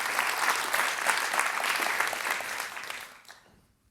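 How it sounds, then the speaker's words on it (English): An audience at the Amsterdam Science & Innovation Awards applauds, with steady, dense clapping from a room full of people that fades out over the last second. "Yes, applause."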